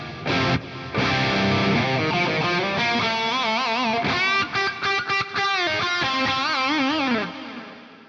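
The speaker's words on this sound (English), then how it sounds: "if I bring the diffuser up, have a listen to what happens to the delays." Electric guitar through a Fractal Audio FM3 multi-tap delay with the diffuser raised, sustained distorted chords and bends washing into smeared, chorus-like repeats, loud and continuous before cutting off near the end.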